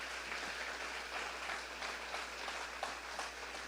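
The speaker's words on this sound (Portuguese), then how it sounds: "Pode aplaudir o Senhor Jesus" A church congregation applauds in a steady wash of clapping that carries on without a break, moderately distant and fairly faint, with no voices rising above it.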